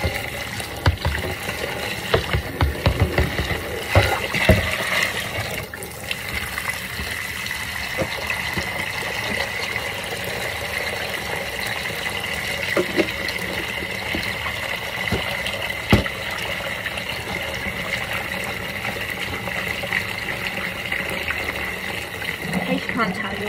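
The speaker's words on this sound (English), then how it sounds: "Run some more water, so loud noises again" Tap water runs steadily and loudly into a basin while cotton yarn is being rinsed, a continuous close gush with some splashing at the start.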